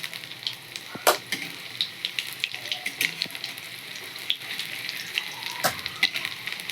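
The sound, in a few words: mustard flower fritters (bora) frying in pan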